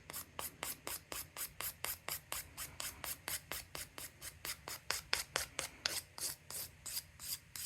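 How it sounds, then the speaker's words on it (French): A nail file works over a cured gel nail in quick, regular back-and-forth strokes, a close, dry scratching rasp repeating about two to three times a second with no pauses. "Fait qu'on va limer comme il faut."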